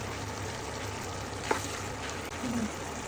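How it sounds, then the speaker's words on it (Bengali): Prawns fry with tomato and green chili in a pan, giving a steady, even sizzle throughout with one brief clink of a utensil stirring midway. "এখন কাঁচামরিচটা দিয়ে দিলাম, দিয়ে এটা আমি এখন ভাজাভাজি করবো যে পর্যন্ত টমেটোটা না গলে যাবে"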